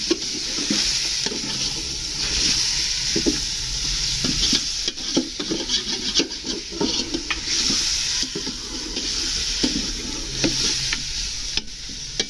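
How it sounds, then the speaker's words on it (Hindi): One kilogram of chicken with onions stir-fried for Shinwari chicken karahi, a steady loud sizzle with repeated scraping and stirring strokes of a spoon against the pan. "ये 1 किलो चिकन है। इसको अच्छी तरह भूनेंगे।"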